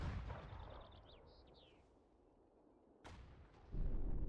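Artillery fire in the World War II strategy game Sudden Strike 4: heavy booms rumble, with one sharp crack midway and a deep blast near the end, over quiet battlefield ambience.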